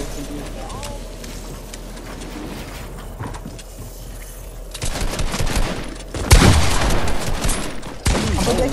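SMG gunfire in the game Fortnite, rapid bursts of shots growing louder in the second half, with a heavy impact midway, amid game noise and people talking.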